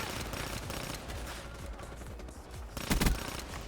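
Rapid bursts of automatic gunfire in a multiplayer shooter game, dense and fairly close, with a sharper loud volley near the end.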